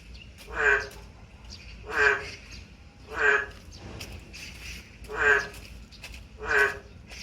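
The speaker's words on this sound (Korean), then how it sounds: "울음소리를 봐서는 뭐 다 자란 맹꽁인 것 같습니다." An adult narrow-mouthed toad calls in a steady series of five loud, nasal croaks, evenly spaced about a second apart, against a quiet background.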